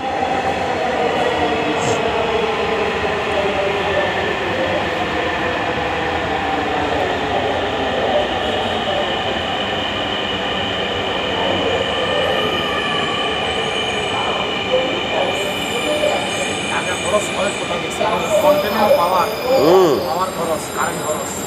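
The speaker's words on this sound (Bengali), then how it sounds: "মেট্রো রেল চলে আসছে।" A metro rail train pulls into an elevated station, its rolling rumble and rising wheel squeal growing louder over about twenty seconds, with people talking nearby.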